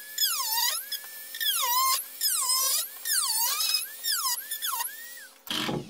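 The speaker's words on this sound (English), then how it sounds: "it's time to begin the Dremel work" Dremel rotary tool cutting, with a high whine that repeatedly rises and falls in pitch as the bit bites and frees up, about six loading cycles, ending in a short rough burst.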